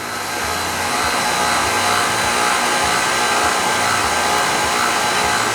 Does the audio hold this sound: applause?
no